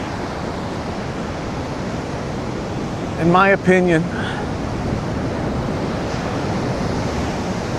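Ocean waves wash in at the shore in a steady, rushing roar with wind noise on the microphone, and someone speaks briefly over it.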